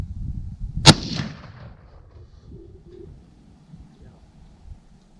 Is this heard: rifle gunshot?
yes